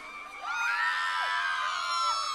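A crowd of children at a Battle of the Bands concert at Venue Cymru in Llandudno cheers and screams, a dense, loud burst of high-pitched shrieks and whoops that holds steady for a couple of seconds.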